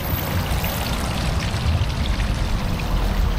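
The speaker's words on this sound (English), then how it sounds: "And a little water fountain." Small water fountain splashing outside a building on a street of New York-style architecture, a steady broadband rush and patter of falling water, close and continuous with no talk.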